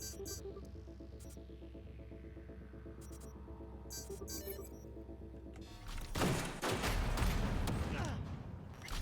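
Automated gun turrets open fire in the Cyberpunk 2077 game, a dense, loud burst of rapid shots erupting about two-thirds through after a stretch of mechanical hum, clicks and ambient game noise.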